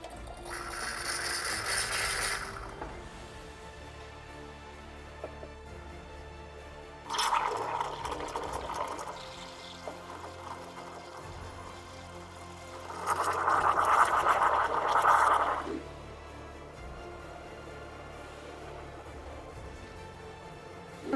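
An espresso machine's steam wand textures milk in a jug, giving three separate bursts of hissing, gurgling steam noise, each a few seconds long, over a faint steady background hum, with no voices.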